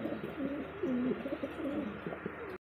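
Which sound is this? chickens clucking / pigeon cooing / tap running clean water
pigeon cooing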